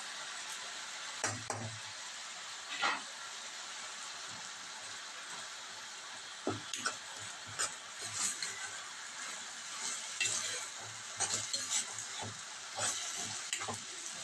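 Onion pieces fry in a pan with salt added, a soft continuous sizzle broken by intermittent scraping and stirring clatters close up.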